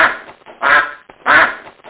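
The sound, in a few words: duck quacking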